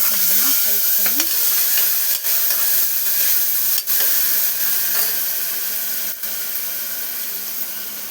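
Tomato frying with onion, ginger-coriander paste and spices in a pan for potato curry, a steady broadband sizzle with occasional scraping stirs and brief faint voice sounds underneath.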